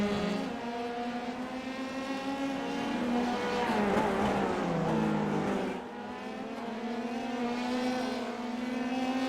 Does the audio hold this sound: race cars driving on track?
yes